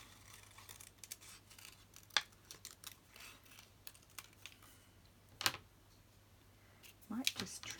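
Scissors snipping paper for Christmas ephemera: a few sharp, close cuts scattered through a quiet room, each a brief crisp click with a faint rustle between.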